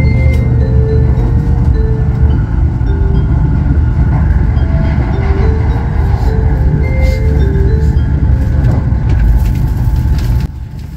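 A melodic in-car chime plays aboard a Nozomi Shinkansen leaving Hakata Station. Its notes ring out steadily over loud, constant train rumble and running noise, and the rumble drops off near the end.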